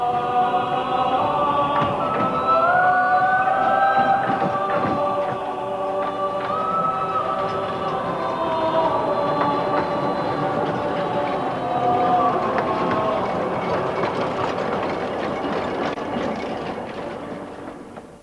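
Narrow gauge Hunslet locomotive Alice running on the Leighton Buzzard Light Railway sand quarry line, a steady rumbling chuff with squealing wheel tones and clanking wagons, loud and close before fading at the end.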